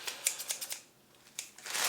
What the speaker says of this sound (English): got some scissors